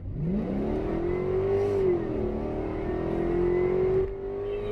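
A Whipple supercharged Mercedes E55 wagon accelerating from inside, its engine rising in a steady drone with a smooth gear change partway through, loud and continuous with no talk.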